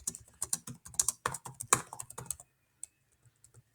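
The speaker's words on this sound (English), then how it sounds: "Now I'm going to quickly go ahead and type in the whole situation." Rapid clicking keystrokes on a computer keyboard, a quick irregular flurry of taps up close that thins to a few isolated presses near the end.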